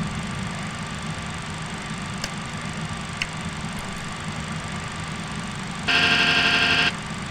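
MD-82 jet engines at climb thrust just after takeoff, a steady, loud drone with a constant whine, broken by a brief bright tonal chime near the end, with no voices.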